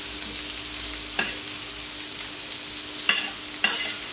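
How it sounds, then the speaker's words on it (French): Potatoes sauté in a frying pan as a duck breast dish with orange sauce comes together, a soft steady sizzle broken by a few scraping stirs of the pan. "Nos petites pommes sautées."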